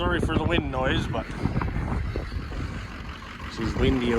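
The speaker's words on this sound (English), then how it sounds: "sorry for the wind noise" Wind gusts buffet the microphone outdoors on a windy day, a steady rough rumble running beneath a man's speech at the start and end and filling the gap between.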